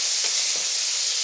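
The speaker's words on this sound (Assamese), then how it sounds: "ৰেডি কৰি ৰখা জলকীয়া কেইটা ফোৰণ মাৰি ল'লোঁ" Green chillies tempering in hot oil for a soybean pitika dish give a steady, loud hiss that runs alone through the brief moment.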